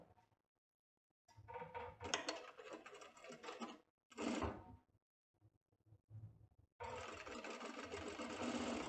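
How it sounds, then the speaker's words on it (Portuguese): A sewing machine stitching a vest with a buckle runs in several short, uneven bursts with gaps between, ending in a longer steady run close by. "agora o pai vai ensinar na máquina como vocês vão proceder com a costura"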